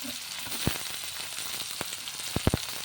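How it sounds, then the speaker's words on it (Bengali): Whole cumin, dried red chilli and onion sizzle in hot oil in a pan, a quiet steady fry with a few sharp crackles and pops near the end. "তেলটা গরম হয়ে যেতে গোটা জিরা, শুকনো লঙ্কা, পেঁয়াজটা দিয়ে দিলাম তেলে।"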